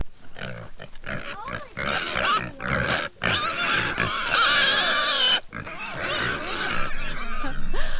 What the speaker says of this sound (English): Good morning to the piggies.